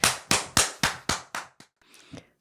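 About six loud, close hand claps land in a quick, even rhythm and end with a couple of faint, softer taps.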